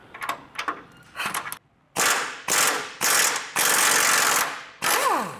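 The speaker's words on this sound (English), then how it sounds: "Hopefully I can just use the air impact on the 1/2 and be able to loosen it" A half-inch air impact wrench loosening a 22 mm bolt during a lift kit install on a 2016-2023 Toyota Tacoma. Several short rattling hammering bursts build into longer, louder sustained runs, close up, with no talking.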